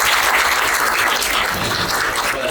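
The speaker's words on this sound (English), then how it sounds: "Yeah, good round of applause." Steady round of applause from a lecture audience, dense continuous clapping filling the room at full level for the whole stretch.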